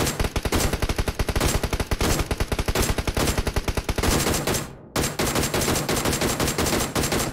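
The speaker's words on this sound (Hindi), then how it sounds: "मैंने डीपी का एक शॉट दिया" DP-28 machine gun fire in PUBG: rapid sustained bursts of loud automatic shots, a dense rattling stream that breaks off briefly just before the five-second mark, then resumes at the same fast rhythm.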